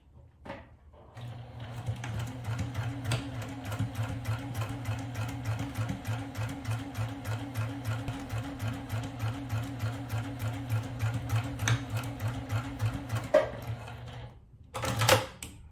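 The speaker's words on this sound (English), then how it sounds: "let's go to the sewing machine. We're going to sew a 1/4 inch" A sewing machine runs in a fast, even rhythm of stitching, starting and stopping cleanly, close up with no talk.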